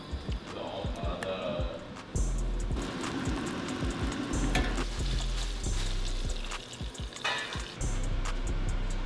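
Floured meat sears in a hot pan for a surf and turf dinner, giving a steady crackling sizzle with stirring clinks and utensil knocks, heard up close alongside some talking.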